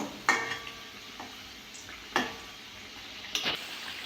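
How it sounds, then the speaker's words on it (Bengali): Flour and sugar sweets fry quietly in a pan, a soft sizzle broken by three sharp spatula clinks and scrapes as the pieces are turned. "উল্টে পাল্টে ভালো করে ভেজে নেব"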